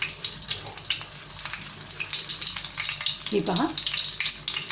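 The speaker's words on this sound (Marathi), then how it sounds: "आपण पाहू शकता एका बाजूने आपली मिरची कशी शेकली गेली आहे" A coconut-stuffed green chilli roasts in a hot pan, giving a soft, steady close sizzle with light crackles and a brief stir or scrape, while someone briefly speaks.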